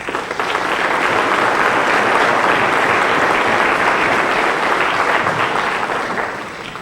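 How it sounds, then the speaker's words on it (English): A large audience at a fire rescue honors ceremony applauds steadily, a dense wash of clapping holding for several seconds before tapering off at the end. "Give yourselves a round of applause"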